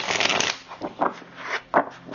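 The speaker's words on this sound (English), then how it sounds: "I'm still shuffling." Tarot cards are shuffled by hand close up, a papery riffle followed by several short, uneven bursts of cards slapping and sliding together.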